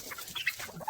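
Free-range country chickens clucking in an open yard beside their cages, a few soft, short clucks scattered close by and fairly quiet.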